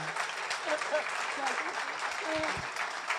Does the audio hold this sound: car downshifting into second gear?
no